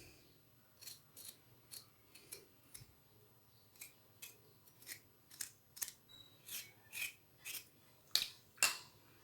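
Knife scraping the skin off washed Chinese potatoes, a run of short, rhythmic rasping strokes at a steady pace, growing a little louder toward the end, with no talking.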